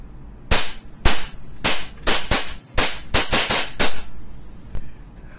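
An EMG STI JW3 airsoft pistol fires around a dozen sharp, loud cracks in an uneven rapid rhythm, each shot snapping clearly with its blowback slide action, followed by a quieter click near the end.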